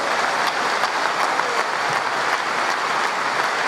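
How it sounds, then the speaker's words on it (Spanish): A church congregation claps together in sustained, dense applause, a steady wash of many hands heard from within the room, with no speech. "Aplauso al Señor Jesucristo."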